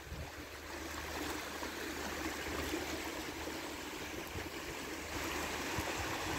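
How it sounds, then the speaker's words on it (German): Incoming flood tide in the Jadebusen on the North Sea coast, a steady broad wash of moving water and surf, continuous and fairly close, with wind noise and no talking. "Die Flut ist hier am Kommen jetzt."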